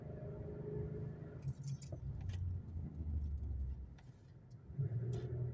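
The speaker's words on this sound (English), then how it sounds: "I'm hearing something in the back, but I think that's just my toolbox" Loose rattling and jangling from a toolbox in the back of a moving 2008 Buick Lacrosse CX 3.8 L, clattering in uneven bursts over steady road and engine rumble.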